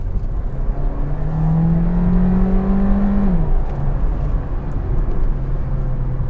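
A Volkswagen Virtus with the 1.5 TSI engine and 7-speed DSG accelerates at full throttle, its engine note rising steadily, then dropping sharply at a quick gearshift and climbing again, loud and close inside the car.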